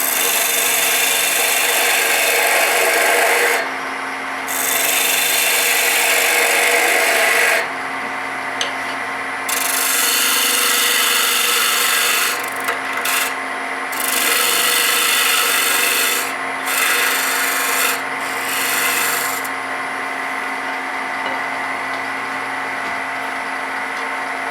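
A parting tool cuts wood on a lathe during multi-axis spindle turning, giving a loud, continuous rasping scrape that pauses briefly several times as the tool lifts off the spinning workpiece.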